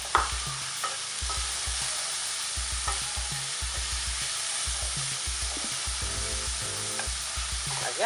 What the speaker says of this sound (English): while this is cooking, the garlic, I'm gonna add a cup of the yellow onions